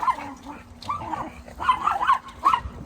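Several dogs bark and yip in short excited bursts, fairly close and loud, with a whimpering, yelping edge between the barks.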